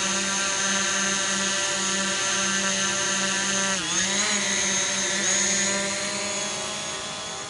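A DJI Mavic Pro quadcopter hovers close by in still air, its steady high-pitched rotor whine droning continuously with a brief dip in pitch midway, loud and alone without any talk.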